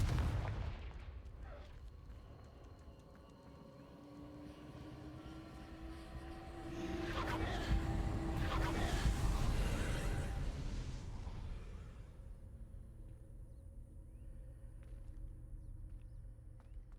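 A Confringo fire spell blast in the video game Hogwarts Legacy, a deep rumbling explosion that swells for several seconds and fades, alone without speech.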